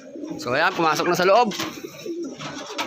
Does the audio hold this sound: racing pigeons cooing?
yes